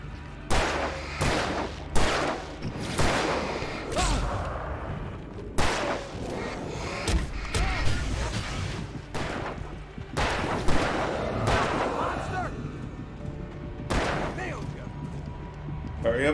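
Gunfire in the video game Alan Wake Remastered: repeated sharp broadband shots in irregular bursts with a couple of heavier booms, loud and close, with a voice speaking between them.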